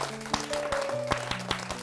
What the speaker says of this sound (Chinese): 今天其实鼓掌是要促进血液循环。